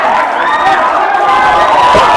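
Crowd at a Thai match cheering loudly and steadily, a dense wash of many voices shouting and whooping throughout a short burst with no single speaker standing out.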